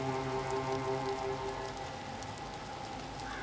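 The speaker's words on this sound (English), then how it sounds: "Okay, it's now dark. It's raining." Steady rain patters in The Séance of Blake Manor video game, a dense, continuous wash of drops on surfaces with tonal game ambience underneath, no talk.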